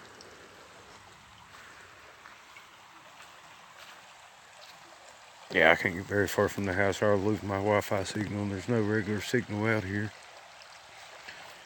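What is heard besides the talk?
creek flowing with small waterfall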